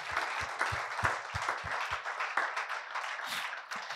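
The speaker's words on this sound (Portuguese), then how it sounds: "Você pode dar uma salva de palmas ao único que é digno?" Church congregation applauding in praise at a gospel service, a steady wash of clapping with a few louder, distinct hand claps up front, sustained through the whole moment at moderate volume without speech.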